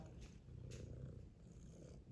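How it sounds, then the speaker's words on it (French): A cat named Dalila purrs softly and close by, a quiet, steady rumbling with gentle rhythmic pulses and no voices over it. "je suis sûr qu'elle ronronne. Elle ronronne, oui"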